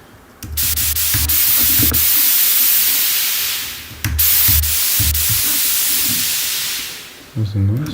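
Broad, steady hiss of synthesized white noise sustained for a few seconds at a time, cutting off abruptly and starting again, with faint low tones and clicks beneath.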